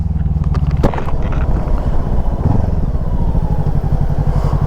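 A motorcycle engine idles close by, a loud steady low throbbing with a brief clatter and thump near the start, continuing without voices over it.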